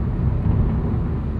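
Steady low drone of a 2020 Hyundai Accent Limited's 1.6-liter engine and road noise heard from inside the cabin while driving, loud and continuous without breaks, with no talking.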